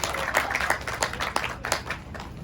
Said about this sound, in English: Huge applause to all of you.